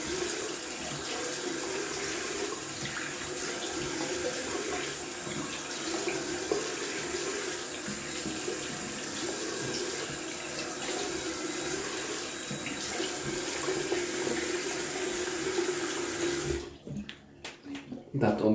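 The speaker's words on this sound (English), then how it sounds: "we're gonna rinse off the alum with cold water" Cold tap water runs steadily into a sink while alum is rinsed off after shaving, a continuous close splashing rush that is broken up by hand movements in the stream near the end.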